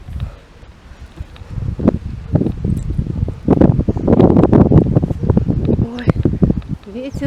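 Gusts of wind roar and buffet outdoors on a slippery riverside path in a rural Komi village, rising loud and rough in the middle, while someone speaks.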